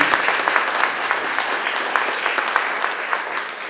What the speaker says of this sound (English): can we give a round of applause to the guitarist?